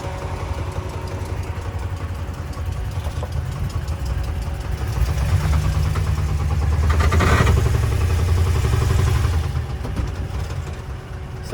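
A Mercedes car engine runs under load, a steady low mechanical drone with a faint knocking texture that swells in pitch and loudness midway before easing back, close and continuous throughout.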